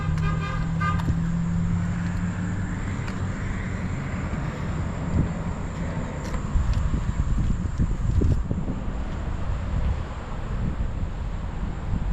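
A 1972 Plymouth Duster Twister with a 340 V8 and four-speed idles and rumbles steadily at moderate distance, a low throbbing engine note with a few louder surges, no voices over it.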